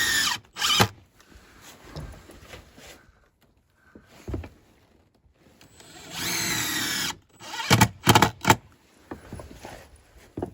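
A power drill whirs in short bursts, driving screws into cabin siding, with pauses and handling noise between; one longer, louder run in the middle.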